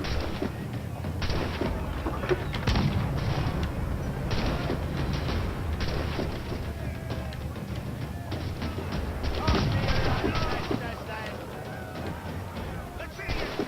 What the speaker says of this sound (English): I sit there firing mini cannons at the crew